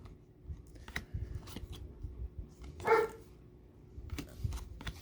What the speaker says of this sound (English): She's looking out the window and barking at anything that goes by.